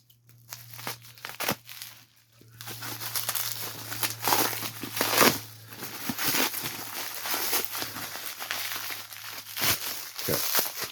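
Plastic and cardboard packaging being cut and torn open while unboxing a military collectible, a steady run of loud crinkling, crackling and tearing close up.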